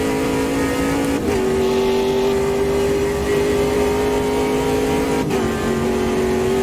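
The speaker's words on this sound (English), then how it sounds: "we begin our first flying lap here in Bathurst with the Ginetta 58" A Ginetta G58 race car in Automobilista 2 lapping Bathurst, its engine holding a steady, loud tonal drone with two quick gear shifts that briefly dip and reset the pitch, heard alone without talk.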